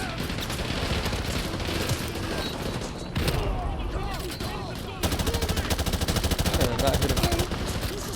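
Sustained automatic gunfire in Call of Duty: Modern Warfare 2, loud and continuous with dense rattling bursts and a heavier thud partway through, while someone speaks briefly over the shooting.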